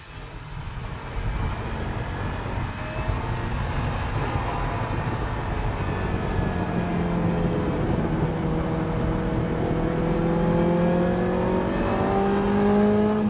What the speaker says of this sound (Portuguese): Vou passar as marchas e ver se o som é realmente tão decepcionante quanto alguns dizem.